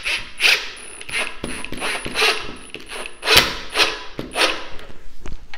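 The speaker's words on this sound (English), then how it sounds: "Putting the screw in now will just help force the raw plug out and expand into the grip fill" A large screw is driven into a plastic wall plug set in filler on a fragile wall, giving repeated ratcheting, creaking turns with short pauses between them, close and moderately loud.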